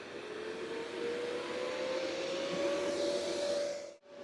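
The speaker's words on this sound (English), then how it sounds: "Fans on." Fans of a DIY air conditioner built into a car-style stroller whir in a steady, close hum with a faint rising tone, then cut out briefly near the end.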